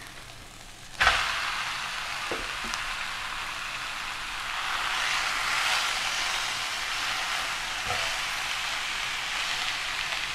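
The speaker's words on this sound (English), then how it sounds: "add the ground beef to the pan." Ground beef dropped into a pan of onions in olive oil, setting off a steady loud sizzle and crackle that holds for several seconds, with a couple of soft clanks.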